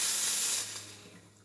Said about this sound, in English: we're going to test the steam. There might be a little bit of water at the first second, but very powerful steam, as you can see there.